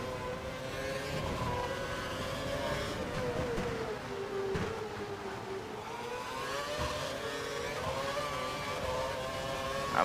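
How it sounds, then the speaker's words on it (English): Racing car engines in the F1 2012 video game at the Australian Grand Prix: a steady, loud high-pitched engine whine that rises and falls with gear changes, a continuous drone with no talking. "I'm gonna hold the outside line as Perez tries to take my inside line"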